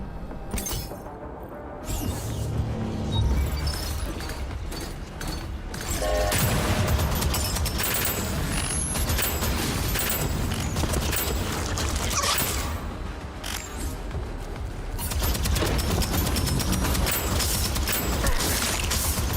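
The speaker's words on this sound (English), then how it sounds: "I'm over here shooting at head level" Constant gunfire in the shooter game Deadzone Rogue: dense, loud bursts of shots and crunchy impacts layered with mechanical clatter, rolling on without pause for nearly twenty seconds.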